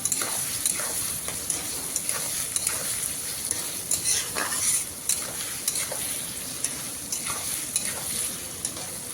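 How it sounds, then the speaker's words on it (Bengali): Onions sauté in a pan with a continuous bright sizzle, broken by frequent scrapes and taps of a spatula stirring them, close and steady throughout. "পেঁয়াজ খুব ভালোভাবে এভাবে কষিয়ে নিতে হবে।"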